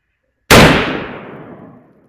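A single loud, sharp rifle shot from a Henry Long Ranger in .308 firing Remington ammunition, cracking suddenly out of silence and then rolling away in a long fading echo outdoors.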